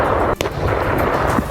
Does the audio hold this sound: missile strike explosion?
yes